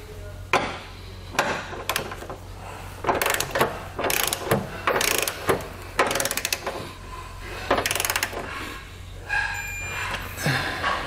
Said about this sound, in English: 19 millimeter socket, you're going to tighten all your hardware.